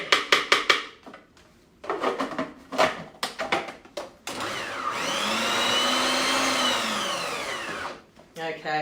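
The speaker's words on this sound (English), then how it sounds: "I can see a big piece of pumpkin that's just not blending" A blender purees a roasted pumpkin and basil dip, first in short stop-start pulses, then in a steady loud whir that rises and falls in pitch for several seconds before cutting off.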